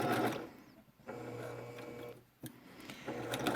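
A sewing machine stitches a curved seam on a fabric mask in a steady, quiet mechanical whir. It breaks off twice briefly for short back stitches before running on.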